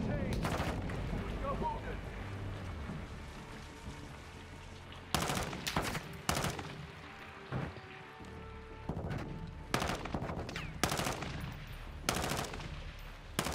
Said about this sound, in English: He's still shooting at people